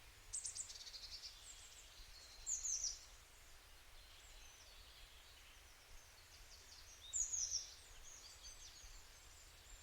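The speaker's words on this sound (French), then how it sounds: "J'entends au loin le doux chant des oiseaux" Birds chirping far off in a calm outdoor setting, short faint bursts of high twittering separated by long near-silent stretches.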